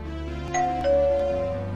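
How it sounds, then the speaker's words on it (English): A two-tone doorbell chime sounds once, a short ding followed by a longer, fading dong against a quiet background hum. "who's that on the doorbell?"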